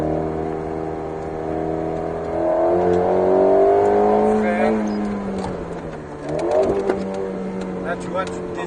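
An Alpine A110S accelerates around the Alès race circuit, its engine note heard from inside climbing through the revs, dipping at a shift near six seconds, then pulling again, loud and close with people talking over it.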